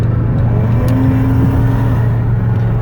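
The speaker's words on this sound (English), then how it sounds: "Some nice acceleration here." A 2015 Dodge Caravan SE Plus minivan engine hums and rises steadily as it accelerates to about 67 mph, heard from inside the cabin with constant road rumble and no talking.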